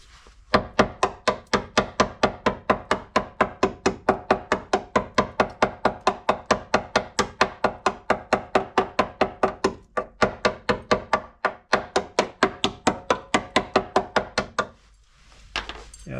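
Steady, rapid hammer blows ring out on the sill of a Land Rover Discovery 3, dozens of sharp metallic knocks in a fast even rhythm, close and loud, pausing briefly near the end.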